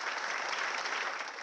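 Dense, steady applause from a large audience at an evening talk event, loud and continuous throughout with no voices over it.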